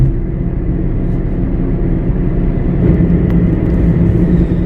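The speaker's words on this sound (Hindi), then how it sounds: "चलता फिरता पूरा हाईवे पूरी रात ही इस तरह से ट्रैफिक बना रहता है।" A low, continuous road rumble from inside a car travelling a highway at night, with passing traffic blending into a steady, loud drone and no clear individual pass-bys.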